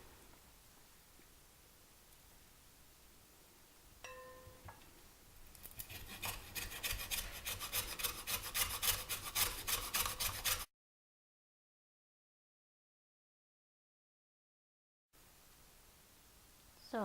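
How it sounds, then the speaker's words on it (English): Lemon rasped against a metal zester in quick, steady strokes, a loud close scratchy burst for several seconds after quieter rubbing, then a break and soft handling noise. "now I'm going to begin zesting the second one"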